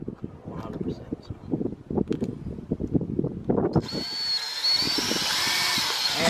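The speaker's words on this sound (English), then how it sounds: "We're gonna go drill a hole." A power drill whines steadily for a couple of seconds after a stretch of people talking, loud and close, drilling a hole during a garage solar panel installation.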